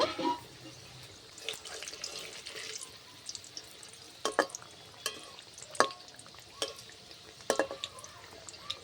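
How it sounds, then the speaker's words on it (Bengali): Pea-stuffed kachori fry slowly in oil, a soft steady bubbling hiss broken by occasional sharper clinks and splashes from a utensil turning them, close by with no talking. "আস্তে আস্তে এবার ভেজে নেব"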